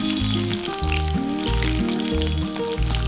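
Sesame chicken pieces deep-frying in hot oil give a steady, close crackling sizzle that runs the whole time beneath a louder music track with stepping bass notes.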